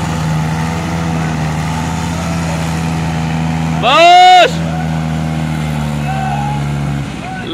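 A tractor engine runs at a steady, droning idle close by, interrupted midway by a brief sharp burst of noise, then continues evenly before cutting out near the end.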